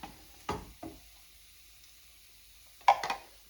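Tomato puree goes into a pan of frying ginger and garlic for a chicken Madras curry, giving quiet sizzles with a few sharp spoon knocks and stirring bursts, clustered early and again near the end.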